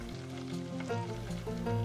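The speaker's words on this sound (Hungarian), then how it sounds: "most már csak a fasírtot kell kisütni" Hungarian meatballs (fasírt) fry in a pan, giving a steady, soft sizzle beneath a tonal background.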